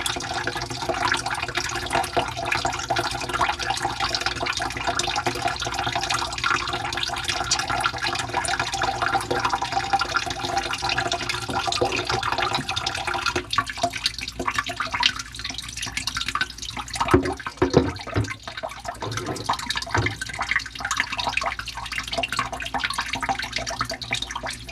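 Water draining from a hotel kitchenette sink after snaking, a continuous trickling, gurgling flow with dripping, close and steady, turning choppier with sputters of air toward the end.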